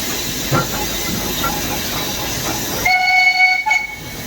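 The Ooty toy train, a rack-and-pinion mountain railway running from Mettupalayam to Ooty, rolls along with a broad steady hiss of steam, then a sharp whistle tone cuts in for about a second near the end.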